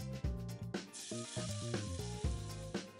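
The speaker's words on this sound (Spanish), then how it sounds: "Dejamos que se derrita y añadimos la cebolla bien picada." Finely chopped onion sizzling in melted butter and oil in a pan while a risotto is started, heard as a steady close frying hiss with bursts of crackle and no talk.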